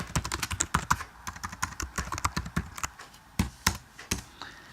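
Typing code on a computer keyboard, a quick run of distinct, close key clicks in irregular bursts, pausing briefly before a few final taps.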